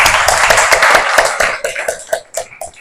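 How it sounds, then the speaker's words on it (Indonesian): A small group clapping after a university teaching session, quick uneven hand claps close by that thin out into a few scattered claps. "tepuk tangan untuk semua kelompok."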